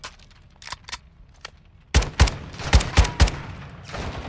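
Gunfire in the Call of Duty: Modern Warfare II video game: a few scattered distant shots, then a string of loud, close single shots in uneven rhythm.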